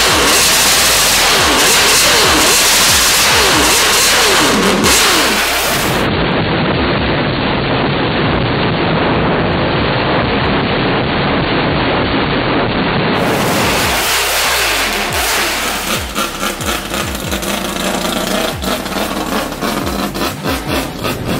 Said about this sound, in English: when he stabbed the throttle and revved it up, it was like, wow!